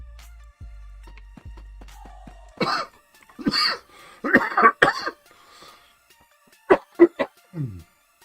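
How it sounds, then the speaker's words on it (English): Several rough, close coughs come in uneven bursts, a cluster in the middle and a few sharper hacks near the end, with quiet gaps between. "The cough just will never go away."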